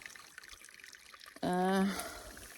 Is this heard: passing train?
no